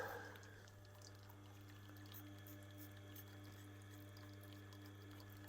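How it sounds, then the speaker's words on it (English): Hot tap water runs steadily over fingers during knife sharpening on a Tormek, a continuous splashing wash over a constant low motor hum, with no voices. "So sometimes I run my fingers under hot water,"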